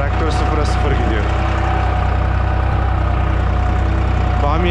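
A tractor cultivating between okra rows in a field runs with a loud, steady low engine drone close by, unbroken throughout, with a voice heard over it.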